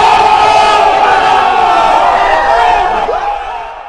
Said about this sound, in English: Can I get a ooh sound effect?